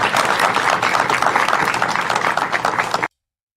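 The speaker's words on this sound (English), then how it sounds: "you hear the applause? That's fake applause." Applause at a gathering, with only a few people really clapping: dense, loud, even clapping that carries for about three seconds, then cuts off sharply into silence.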